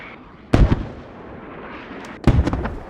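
Two heavy mortar blasts land in a multiplayer shooter game, the first around half a second in and the second near the end, each a loud booming burst with crackling debris over quiet ambient background.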